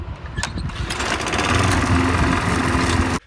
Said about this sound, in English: And you gotta start mowing the lawn.